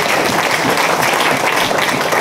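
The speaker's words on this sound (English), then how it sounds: "give them a round of applause." Steady audience applause at a sailing regatta awards ceremony, a dense wash of many hands clapping at once, sustained and fairly loud throughout with no pauses.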